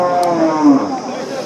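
Cattle at a village livestock market in Bagharpara, Bangladesh, give a loud, close moo that rolls on for over a second, with a steady hum of market noise underneath.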